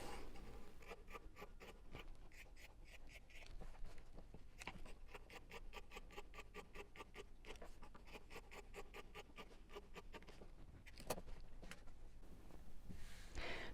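Pen or marker drawn around the edge of a shape on fabric for a quilted scissor keeper, giving faint, quick scratchy strokes in repeated bursts over a quiet room.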